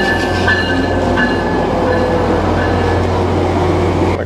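Loud, continuous rumble of a Tri-Rail commuter train arriving at a Miami-area station, with metallic screeching tones and rattling wheels close by.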